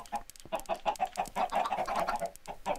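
Minecraft chickens cluck in a quick, uneven run of short, chirpy notes, close and clear with no talk over them.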